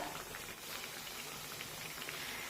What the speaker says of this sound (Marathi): तर आता उलट पुलट करत हे वडे आपण दोन्ही बाजूने छान सोनेरी रंगावर तळून घेऊया